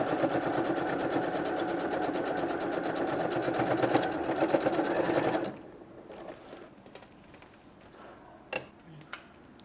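A sewing machine stitches the lining seam of a fabric bag with rapid, steady mechanical whirring for several seconds, then stops, leaving quiet handling sounds and a couple of faint clicks.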